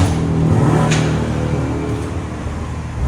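A BMW M340 with a 3.0L turbo engine and stock exhaust revs up and settles, a close, fairly subdued low rumble with one brief rise early on.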